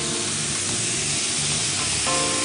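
Meat with finely chopped onion frying in a pan gives off a steady close sizzle and crackle, with a slight rise in intensity near the end and no voices.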